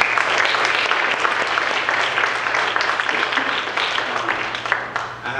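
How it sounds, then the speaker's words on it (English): A crowd applauds a poem performance, steady dense clapping filling the room for several seconds at a sustained level, with faint voices mixed underneath. "So let's give him a round of applause for that"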